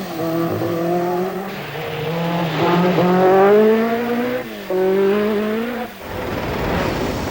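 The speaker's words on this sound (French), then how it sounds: "Peugeot a dévoilé sa T16 Evolution 2" A Peugeot 205 Turbo 16 Evolution 2 rally car drives past close and loud, engine note climbing and falling through gear changes, with a sharp drop near the end before it pulls away again.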